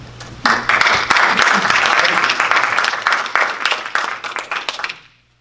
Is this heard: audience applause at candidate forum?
yes